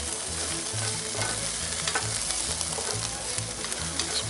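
Garlic sizzles loudly in a cast iron pan while being stirred continuously, a dense crackling fry with rhythmic scraping of the stirring utensil throughout, close and without any talk.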